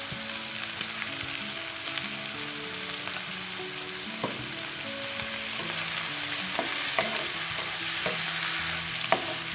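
Squid and shrimp stir-fry in a hot pan, giving a continuous soft sizzle with occasional scrapes and taps of a spatula, while gentle background music plays throughout.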